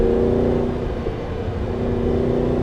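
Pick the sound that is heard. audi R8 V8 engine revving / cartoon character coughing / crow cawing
audi R8 V8 engine revving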